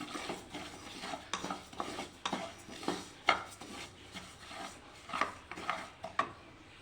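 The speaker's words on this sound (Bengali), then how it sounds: "এদিকে মুগ ডালটা একটু ভেজে নিচ্ছি" Moong dal being dry-fried and stirred in a pan for a vegetarian dish, heard as repeated close scraping and clinking stir strokes in uneven bursts, with only a faint sizzle underneath and no talking.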